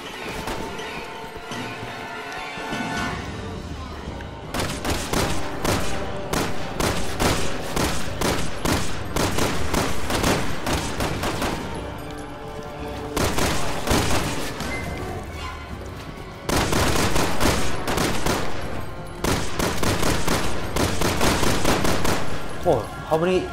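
Sustained bursts of automatic and rapid gunfire in Resident Evil 6, fought through subway tunnels, loud and dense in long volleys with brief lulls between them.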